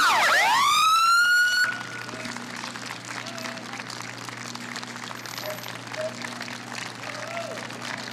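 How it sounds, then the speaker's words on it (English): Crowd applause at a Memorial Day parade, steady and spread out along the route, running under a loud wailing emergency-vehicle siren at the start and continuing as a broad wash of clapping. "We're going to have to pause for the applause."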